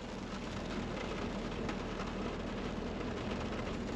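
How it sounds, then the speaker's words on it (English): Rain falls steadily on a farm, a soft, even hiss that holds constant from start to finish with no voices over it. "It's raining."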